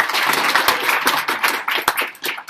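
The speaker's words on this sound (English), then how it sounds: "So I think we should give another round of applause for doing that." A small group of meeting attendees gives a round of applause, loud, close individual claps standing out as sharp distinct hits within a moderately dense, slightly uneven patter.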